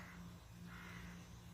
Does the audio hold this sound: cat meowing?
no